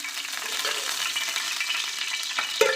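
Oil sizzles steadily in a pan while being heated for a South Indian tempering, a continuous close hiss with a small pop near the end.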